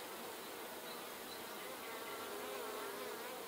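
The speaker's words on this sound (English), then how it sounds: "They have lots and lots of bees." Honeybees in a beehive, a dense continuous buzzing hum from many insects, close and even, with no voices over it.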